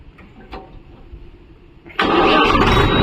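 A Mahindra Yuvo Tech Plus 585 4WD tractor engine cranks and catches after a quiet moment with a few faint clicks, then roars into a loud, steady run close by.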